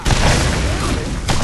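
Gunfire and booming blasts in the video game Borderlands, dense continuous explosive shots with a loud sustained roar over about a second and a half.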